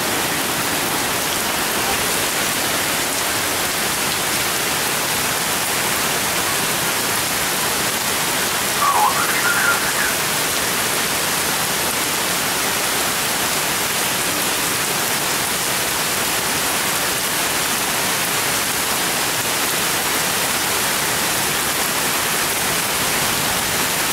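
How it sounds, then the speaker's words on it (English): Heavy rain pours steadily during a severe thunderstorm in central New Jersey, a dense, even hiss of downpour with one brief faint sound partway through. "I figured I might as well take a short clip of this rain."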